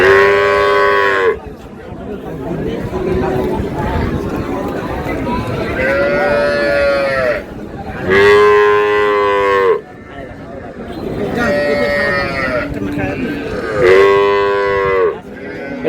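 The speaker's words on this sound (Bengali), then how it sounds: "গাভী বাছুর।" A cow with her calf moos repeatedly at a cattle market in Raniganj, loud, drawn-out calls recurring every few seconds over a murmur of crowd chatter and people talking.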